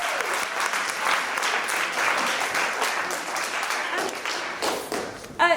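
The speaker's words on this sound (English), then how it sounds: "Can we give them a round of applause," Steady, full audience applause fills a hall after a school debating final, continuous dense clapping throughout with a brief voice at the very end.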